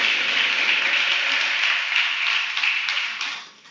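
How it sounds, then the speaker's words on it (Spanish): A church congregation applauds in a long, dense burst of clapping at steady strength, close and full, tapering away at the end with no voices over it. "¿Qué tal si usted le da un fuerte aplauso al Señor por eso?"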